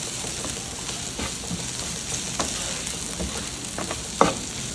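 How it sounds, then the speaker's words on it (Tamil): Squid pieces are stirred in a hot pan of oil for a beach-style fry, giving a steady high sizzle with repeated soft scraping strokes and one sharper clack near the end. No one speaks. "நான் வந்து அடுப்பை ஆஃப் பண்ணிவிட்டு ஜஸ்ட் ஒரு மிக்சிங் தான் கொடுக்குறேன்"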